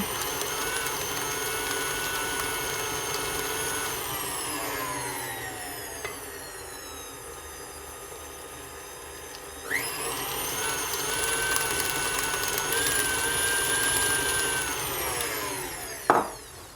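Electric hand mixer beating egg into an apple pie mixture, a steady whining motor that slows down and then speeds back up, with a brief knock from the bowl near the end.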